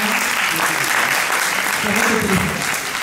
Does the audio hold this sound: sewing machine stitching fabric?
no